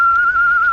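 A single steady whistled tone from a person in a radio drama holds one sustained pitch for under a second, clear and close with no talk over it.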